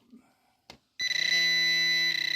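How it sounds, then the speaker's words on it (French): A Garrett Pro Pointer metal-detecting pinpointer switching on: a short click, then a shrill electronic tone that sounds as two quick beeps running together, loud and close with no voices. "On l'allume, il sonne 2 fois."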